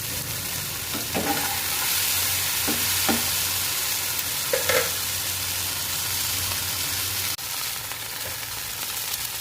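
Okra sizzles steadily in a hot pan with ground cumin, turmeric and salt, with a few stirring scrapes, close and continuous with no voices.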